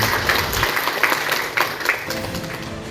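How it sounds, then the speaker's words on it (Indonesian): A crowd of teachers claps together in a dense, sustained burst of applause, with a few sharper individual claps standing out. "tepuk tangan dulu buat kita semua Bapak Ibu guru"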